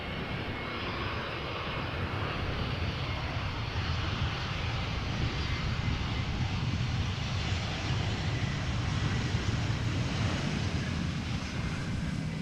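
An Airbus A319 lands at Amsterdam Schiphol without thrust reversers, a sustained mid-distance jet roar with a wind-like rush that stays steady and even throughout, no voices.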